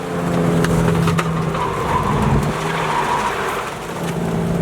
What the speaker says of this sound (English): A little bit of oversteer there.